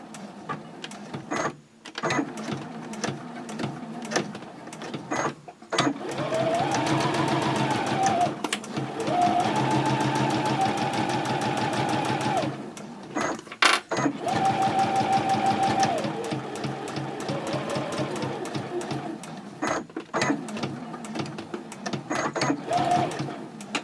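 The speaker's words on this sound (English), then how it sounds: "on this side of the interior, we're sewing straight across" A sewing machine runs a straight seam across a purse interior at a 2.6 stitch length, with steady whirring bursts broken by short pauses and quick backstitches, close and fairly loud.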